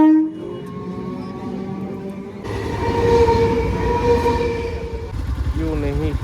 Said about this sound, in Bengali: ট্রেন তো চলেই এসছে